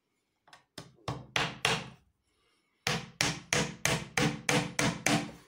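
Small-headed nails hammered into a wooden workbench in a woodworking school shop: a few building strikes, a brief pause, then a steady run of about eight sharp, close, evenly spaced hammer blows.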